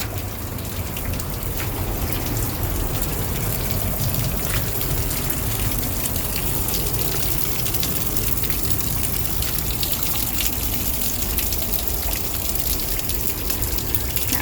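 Gushing water pours steadily behind a trailside waterfall along the John Muir Trail, a loud, unbroken broadband rush that fills the whole stretch with no pauses and no voices.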